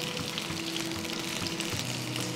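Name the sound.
fish frying on a tawa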